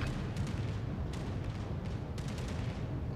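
Battleship main guns boom in World of Warships, aboard a US North Carolina battleship, with dense low rumbling blasts and overlapping booms running continuously throughout.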